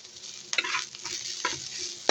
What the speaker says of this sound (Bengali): তো আমার পেঁয়াজটা ভাজা হোক ভালো করে